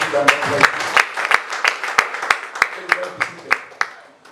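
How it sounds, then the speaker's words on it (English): A church congregation clapping for Jesus at the close of a prayer, with sharp claps repeating at a steady, roughly rhythmic pace over crowd noise and faint voices. "Clap for Jesus"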